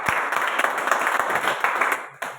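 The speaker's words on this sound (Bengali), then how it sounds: "করতালি হবে, করতালি।" An audience claps in applause at a celebration gathering: a dense burst of hand claps that runs for a couple of seconds, then fades off with a few scattered claps at the end.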